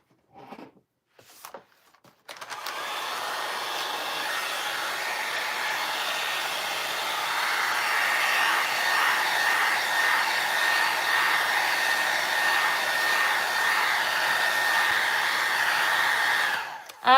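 A hair dryer blows steadily on spring-themed paper for a book stack craft, a loud continuous whoosh that starts after a couple of seconds of small handling noises and runs alone until it cuts off at the end.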